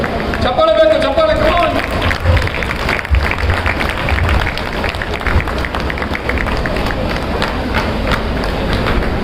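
Crowd applause at a student event organised by Public TV, with dense broadband clapping filling the space throughout amid loud ambient noise and a voice heard briefly near the start.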